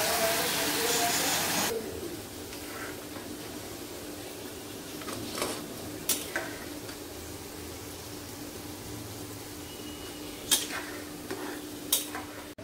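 A spice mix for khichuri is sautéed and stirred in a pan. A loud burst of sizzling opens, then it settles to a low, steady fry with a few sharp spoon scrapes and taps against the pot. No one talks.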